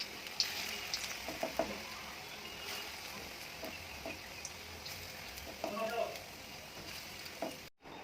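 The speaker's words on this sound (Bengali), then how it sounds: "লো ফ্লেমে বড়াটা আমি ভেজে নেবো" Lentil fritters fry in mustard oil on a low flame, giving a steady, soft sizzle with faint crackles throughout and a brief dropout near the end.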